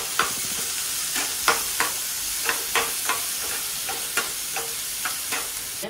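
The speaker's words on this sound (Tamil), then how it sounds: "நல்லா வதக்கி போட்டுங்க." Potato sizzles in a pan with curry leaves, green chili and crushed ginger-garlic, a constant close frying hiss broken by regular scraping stirs about every half second.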